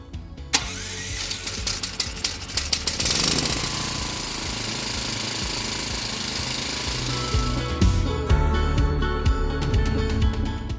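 A gasoline generator just after starting: sharp mechanical clatter and bursts, then the engine settles into a loud, steady running drone close by, with its tone shifting near the end.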